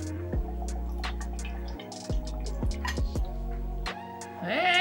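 Jim Beam whiskey trickling awkwardly from a vintage decanter into a glass, heard as a quiet run of separate drips and glassy clinks with small ringing tones, uneven and hesitant rather than a smooth stream.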